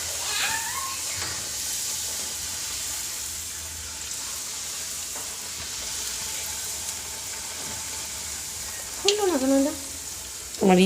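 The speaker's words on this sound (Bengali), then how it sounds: "চলো লুচি লুচি ভেজে নি" Luchi fry in hot oil with a constant bright hiss and sizzle, close by. Short voice-like calls break in near the start and again toward the end.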